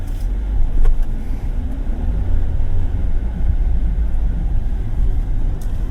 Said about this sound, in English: So we are now riding on this cobbled road.